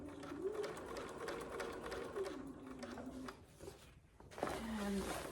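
A sewing machine stitches down the fabric of a small bird-shaped bag in quick, steady bursts, with a brief pause near the end before it starts again, heard close by with a voice talking over it.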